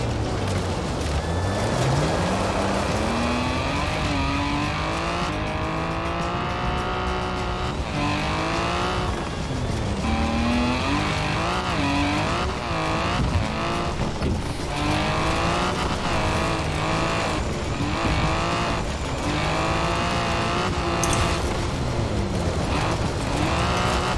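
Turbocharged petrol Volkswagen Golf MK2 GTI engine in Forza Horizon 4 revving hard through repeated gear changes, pitch climbing and dropping in a loud, continuous, close drone for over twenty seconds.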